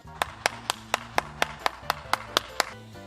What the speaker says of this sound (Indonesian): Oke deh, tepuk tangan buat Super Kids.